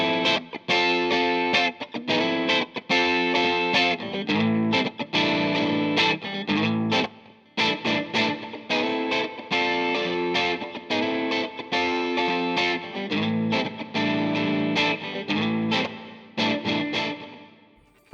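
A full music mix with reverb on its elements, loud and dense with sustained harmonic tones, steady rhythmic hits and a brief dropout near the middle, without any voices.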